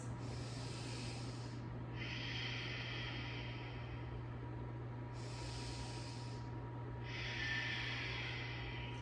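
Slow, deep breathing during a yoga pose: two long airy inhale-exhale cycles, close and steady, heard over a constant low hum with no talking.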